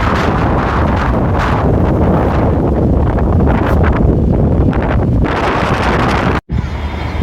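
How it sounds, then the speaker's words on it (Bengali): Strong storm wind roaring and buffeting the microphone, loud and continuous with gusting surges, cutting out abruptly for a moment near the end before resuming. "শো শো শব্দ হইতেছে বাতাসের"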